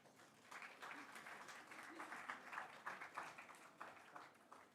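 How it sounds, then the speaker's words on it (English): An audience at an Ayurveda college workshop applauds during a felicitation, a soft, continuous patter of many hands clapping, fairly faint and distant, with no speech on top. "Please clap."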